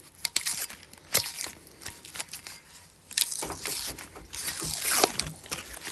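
Sublimation transfer paper peeled off a tumbler after pressing, giving crinkly tearing and crackling bursts in irregular spurts, close and moderately loud, with no talking.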